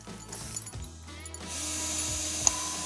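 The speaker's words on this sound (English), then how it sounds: "That's some fine drilling action." Power drill boring into thick wood while building a log cabin from a storage shed, a close steady whine with ratcheting mechanical rattles and a brief sharp click near the end.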